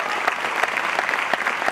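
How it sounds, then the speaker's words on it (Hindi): An audience at a stage event claps steadily and evenly throughout, a dense continuous applause heard from within the hall. "आपकी डायमेंशन के लिए तालियां बजाइए।"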